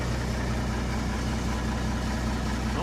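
Old Mack R-611T truck with a 6-250 engine idling after a cold start, a steady, loud, low diesel rumble heard alone throughout.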